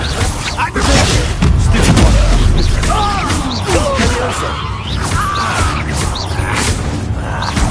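Stupefy spell impacts and combat effects in Hogwarts Legacy: loud booms, thuds and crashes layered with swishing magic, dense and close, with voices talking over the battle.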